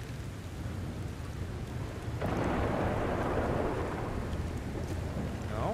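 Thunderstorm in the Red Dead Redemption II video game, a steady roar of rain and wind that swells abruptly partway through into a louder, denser wash, continuous and close.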